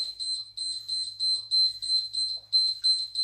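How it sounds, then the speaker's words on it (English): Rapid, high-pitched electronic beeping in quick bursts, repeating continuously and fairly loud against a quiet background. "Oh my God, there's loads of beeps."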